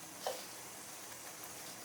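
Steady soft sizzling and bubbling of a simmering sorrel-leaf (sukkan keerai) thokku gravy with garam masala in a pan, with a faint clink near the start, no voices.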